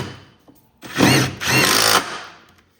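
A power tool drives bolts into the seat mount of a Cub Cadet tractor in two close, loud whirring bursts with a short pause between them.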